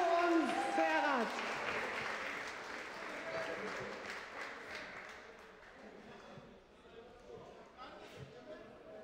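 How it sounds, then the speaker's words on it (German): Crowd at a GMC lightweight MMA title fight applauds both fighters, a burst of clapping that starts strong and tapers away over several seconds, with a voice speaking faintly through it. "Applaus für beide Kämpfer"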